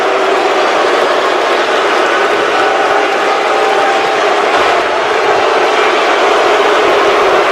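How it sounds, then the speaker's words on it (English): A wrestling arena crowd at a British ICW show boos loudly and continuously, a dense wash of voices filling the space without a break. "As they should be getting booed right now."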